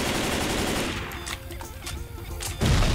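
Rapid automatic gunfire from a video game rattles in dense, continuous bursts, easing briefly in the middle before surging loud again at the end, with no talking.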